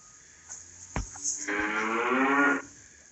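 A cow in a barnyard gives a long, loud moo lasting about a second, with a few short grunting sounds just before it. The call is close by and clear, with no talk over it.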